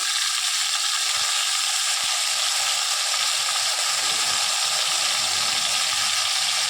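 Bathua greens dropped into a hot pan of oil, giving a steady, close frying sizzle that hisses evenly throughout with no voices.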